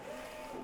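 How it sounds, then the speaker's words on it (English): An OmniDTF printer printing onto a feeding film roll, a steady mechanical whir and hum, near and moderately quiet, with no talking. "now that we've got it printing"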